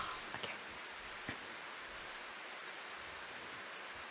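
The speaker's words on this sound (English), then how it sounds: "The patter of rain mingled with the faint scratching of paint spreading across the canvas." Steady, soft patter of rain in the video game Slow Damage, a gentle even wash of noise with a few faint droplet ticks near the start, heard alone.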